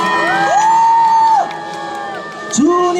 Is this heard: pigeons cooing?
no